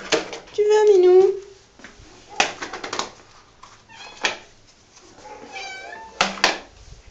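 Cats meow repeatedly in a shelter room, several drawn-out meows and short cries scattered through the clip, near and fairly loud, with someone speaking between them.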